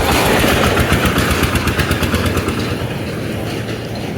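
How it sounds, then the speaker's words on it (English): A diesel-engine tricycle rattles loudly on a road under construction in Uganda, its engine giving a continuous, rough, pulsing clatter that stays close and strong throughout before easing slightly toward the end. "it is a tricycle, but it's making a lot of noise as it emits fumes"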